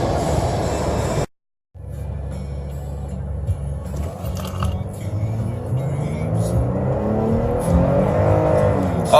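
A 2017 Toyota Tacoma TRD Off-Road engine with an aftermarket AFE dry air filter revs at full throttle up to the rev limiter, a loud rising drone that climbs steadily after a brief cut, with a voice faintly underneath.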